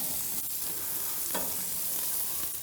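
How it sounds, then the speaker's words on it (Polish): Thick slices of koryciński cheese fry on a hot plancha griddle, giving a steady, fairly quiet sizzle with a few brief crackling bursts and no talking. "I teraz na tej płycie wyląduje koryciński, grube plastry. Też smażenie z obu stron."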